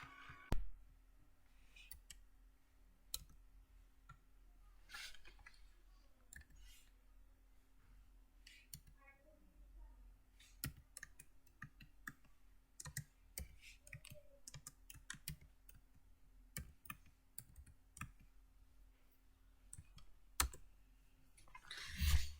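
Computer keyboard keys clatter in irregular bursts of clicks while a command is entered during a Unix installation in VirtualBox, fairly close and alone over a steady low hum, with a few louder key strikes near the end.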